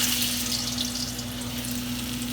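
Sweet ripe plantains frying in hot oil over medium-high heat, a steady close hiss and crackle with an even low hum underneath.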